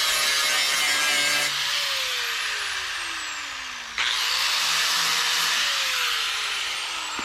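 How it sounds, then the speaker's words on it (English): A grinder cuts into a rusted car body panel with rotten metal, a loud continuous whine and grinding roar close by, dipping briefly midway before the cut resumes. "Pull out the grinder and find out."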